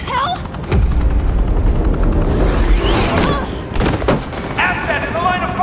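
Gunfire in Batman: The Enemy Within, loud bursts and booming shots spread over several seconds with a helicopter-like roar, a voice briefly cutting in.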